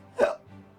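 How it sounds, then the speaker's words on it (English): A single short hiccup, sudden and fairly close, standing alone before a faint low background hum. "Lots of hiccups"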